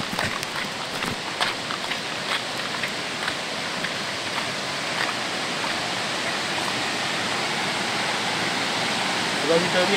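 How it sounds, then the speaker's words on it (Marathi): Stream water flowing in a Konkan forest, a continuous even rushing hiss heard close and steady throughout, with faint occasional taps over it. "थोडासा आवाज येते पाण्याचा"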